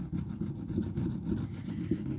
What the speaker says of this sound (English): So I'm going to scrape this off because it started setting